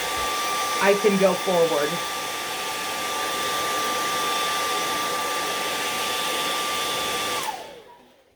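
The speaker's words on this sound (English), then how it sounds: "I am going to quickly dry this" A hair dryer blows steadily on a wooden Easter egg to dry wet acrylic paint. Its constant whir runs for about seven seconds under a brief spoken remark, then cuts off sharply and winds down.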